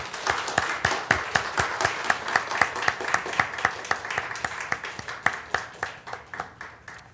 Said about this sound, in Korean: 우리 인사하고 들어갈 때 우리 힘차게 우리 박수하시겠습니다.